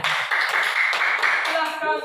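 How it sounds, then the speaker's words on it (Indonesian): Students in a classroom applaud after the final presentation, a brief burst of dense, steady clapping that fades at the end. "tepuk tangan"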